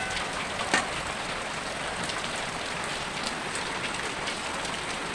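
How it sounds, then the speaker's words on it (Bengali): Heavy, steady rain pours down, a dense continuous hiss of drops striking surfaces with no other sounds standing out. "বৃষ্টির শব্দটা আমার থেকে বেশি আসবে কারণ বৃষ্টিটা বেশ পড়ছে ভালো"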